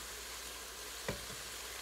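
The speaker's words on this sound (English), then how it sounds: "Now I'm going to give it a good stir." Beef with onions, coriander, cumin and dried shallots sizzles faintly in a pan, a soft steady hiss with one sharp scrape of the spoon stirring midway.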